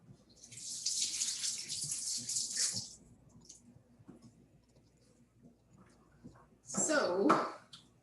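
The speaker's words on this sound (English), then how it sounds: "let me wash my hands real quick" Tap water gushing into a kitchen sink during hand washing, a bright hiss for a few seconds, then quiet rustling before a second burst of running water near the end, close by.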